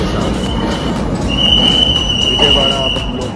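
A passenger train travels through Vijayawada station in India on a Chennai to Delhi run. A constant loud rumble of wheels on rail is heard from on board, with a sustained metallic squeal rising partway through and faint voices underneath.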